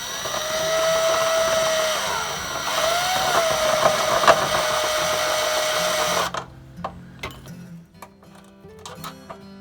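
A steady whirring power drill bores a hole in a Promaster van for a hidden sliding-door step for several seconds, then stops, leaving scattered clicks and taps of handling nearby.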